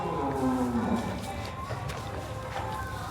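Cows mooing while being fed laddus as part of cow-care feeding, a steady low lowing call that rises into a drawn-out moo, with herd noise and faint rustling continuing throughout.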